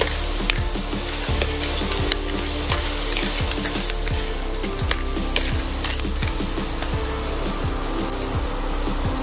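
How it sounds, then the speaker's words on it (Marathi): Clams cooked as sukhe with kokum are stirred in a hot pan, with loud continuous sizzling and frying plus regular scraping strokes of a spatula repeating about once a second, close and without talking. "आता मी हे छान सगळं एकजीव करून घेणार आहे।"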